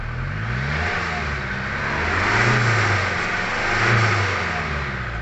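A 2013 Kia Carnival with a J3 diesel engine, previously smoking black and low on power, starts and runs with a steady mid-pitched drone, revving up in two swells before settling back.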